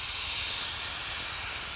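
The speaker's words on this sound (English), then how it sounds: "What you're hearing right now is a safety release." A steam traction engine at a farm show vents through its safety release valve, a loud, steady high-pitched hiss that holds unbroken throughout, with a faint low machinery rumble beneath.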